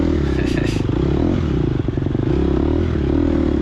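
A Gas Gas EX250F dirt bike races in a TORCS ZARS 2023 harescramble, its engine giving a steady, close, droning buzz that holds its pitch throughout, with light clattering and scraping over it.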